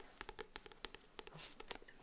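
Fingertips tapping on a book cover in a quiet room, a quick irregular patter of soft, close, faint taps with no voice.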